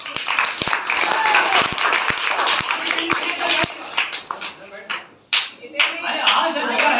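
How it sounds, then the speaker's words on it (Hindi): Children clap at a Children's Day school program welcoming an education officer, first in spaced, separate claps, then a fuller burst of clapping that stops and starts, with voices talking throughout. "तालियां तालियां तालियां बजाओ।"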